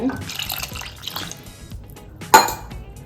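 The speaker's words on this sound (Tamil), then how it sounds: "இப்போ பால் சேர்த்துருவாங்க." Milk poured into a pot of jackfruit payasam, a brief splashing pour near the end following a few seconds of quieter kitchen clatter.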